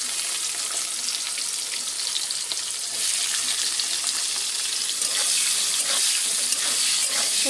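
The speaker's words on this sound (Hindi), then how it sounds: "इसे लाल होने तक फ्राई कर लेंगे।" Chopped onions and cumin fry in hot oil in a pan for a spiced chicken and potato dish, giving a steady, close, even sizzling hiss throughout.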